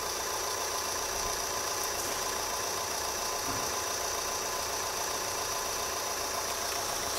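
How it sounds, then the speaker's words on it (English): The diesel engine of a 2010 Opel Insignia with an excessive EGR flow fault idles at a standstill, a faint, steady mechanical hum with light ticking and no talk. "Test conditions, engine idling, vehicle speed 0 kilometres an hour."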